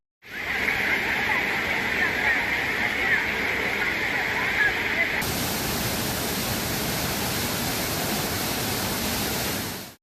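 Hogenakkal waterfall thunders with tourists around it, a continuous broadband rushing roar of falling water that holds steady and then shifts abruptly in tone halfway through.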